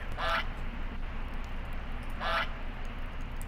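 Two short, fairly loud duck quacks about two seconds apart, standing out over a steady background hiss with no talking.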